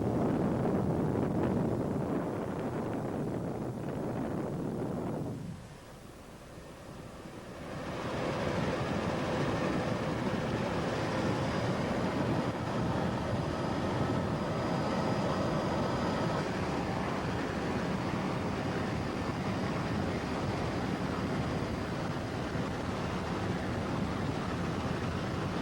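Loud, steady roar of four 850-horsepower Gentry American Eagle engines on an offshore racing powerboat racing past at a 1989 race in Fort Myers, Florida, with rushing wind and water noise; the roar dips briefly then surges back.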